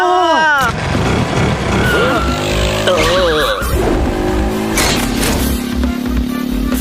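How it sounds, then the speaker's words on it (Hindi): A scooter revs and speeds away in a cartoon scene, its engine whining and pitching up and down with tire-squeal effects while voices shout over it. "बनी, स्कूटर भगा।"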